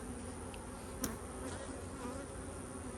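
Honey bees hum steadily on and around a hive frame in a cow pasture apiary, a constant close drone broken by a single short sharp click about a third of the way through.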